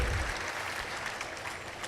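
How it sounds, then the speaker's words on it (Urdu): Brief burst of loud applause from a congregation at an annual Holy Mary pilgrimage, a dense wash of clapping that holds steady for under two seconds. "مقدسہ ماں کے لیے زوردار تالیاں بجائیں گے"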